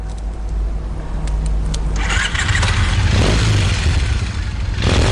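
A motorcycle engine starts and revs up in a dramatic scene, the rough low rumble swelling into louder throttle bursts, close and continuous with no talking.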